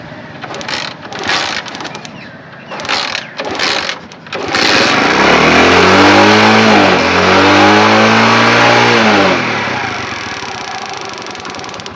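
A Honda motorcycle engine is kick-started after a few sputtering kicks, then catches and revs loudly up and down close by before easing back toward idle.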